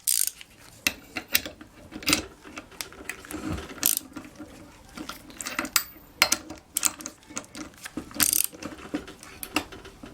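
Ratchet wrench fitted with an 11/16 socket clicking in short, uneven bursts of sharp metallic pawl ticks while loosening a fastener on a Craftsman string trimmer, close and fairly quiet.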